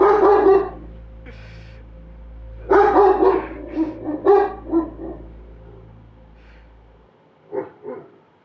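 A dog barks in the video game Lost Judgment, with a few loud, close barks at the start and a second burst a few seconds later, then softer yips near the end over a low steady hum.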